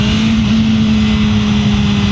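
A 2024 BMW M1000R M Competition sport bike engine screams at a steady high rev near 14,500 RPM, loud and continuous throughout with a strong sustained tone and no voices.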